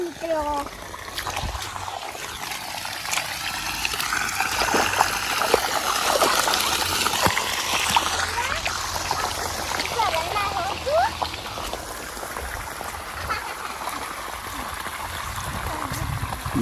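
Water rushes and splashes along a farm irrigation channel in an open field, a continuous close trickling flow with voices talking over it throughout.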